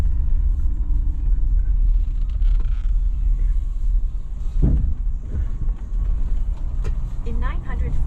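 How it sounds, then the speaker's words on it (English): A Ford Super Duty pickup in 4-wheel drive on a rough road gives a steady, loud low engine and road rumble throughout, with a few bumps and a short voice near the end. "I'm gonna lock this thing in 4-wheel drive because the first part of the road here is not very good"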